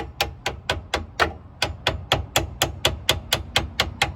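A hammer taps on metal in a quick, steady rhythm, about four sharp close strikes each second, with no pause, loosening a seized parking brake cable on a C3 Corvette.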